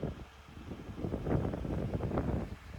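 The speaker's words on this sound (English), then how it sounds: "it is very windy." Low, blustery wind buffeting an iPhone microphone outdoors near a trailer with a boom lift, a continuous rumbling roar that swells and fades in gusts over nearly three seconds with no voices.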